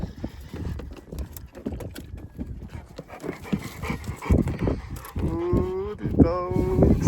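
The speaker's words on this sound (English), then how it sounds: "Ooh, the dogs." Dogs outdoors on a rural property give rough barks and panting vocalizations that build toward the end, mixed with farm-animal-like calls, fairly close and getting louder.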